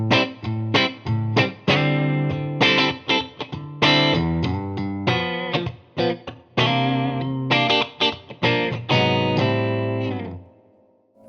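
Electric guitar played through the clean channel of a Yamaha THR100HD amp into a cabinet with mismatched speakers, a lively run of plucked chords and riffs with a bright, chorus-tinged tone, ringing out at the close.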